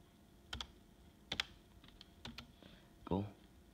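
Keys tapped on a computer keyboard during online schoolwork, a few quiet separate clicks in small clusters, with a brief voice sound near the end.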